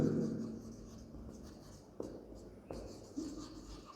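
Chalk or marker writing on a classroom board during an electrostatics lesson: faint, steady scratchy strokes with a few sharp taps as the writing tool meets the board, with no speech over it.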